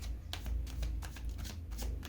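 Tarot cards are handled and shuffled close up, with quick papery riffles and soft flicks in a short continuous burst.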